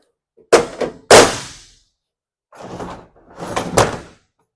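Slide-out tray on a Ram fire utility truck rolling out from the rear bed, with a couple of loud thunks and a heavy slam followed by softer rolling and clunking movements, close by with no talking.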